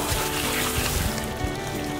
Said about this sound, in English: So I'm watering the compost, and as you can see, our bin is sort of draining out down here